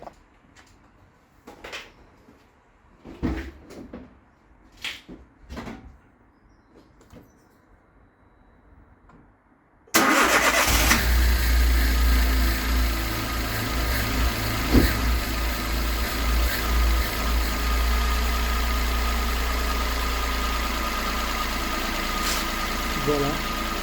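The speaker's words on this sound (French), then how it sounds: "la voiture a démarré." A few scattered knocks and clicks, then a Citroën C1 or Peugeot 107/108 engine fitted with an E85 ethanol kit abruptly starts and settles into a loud, steady idle that continues to the end.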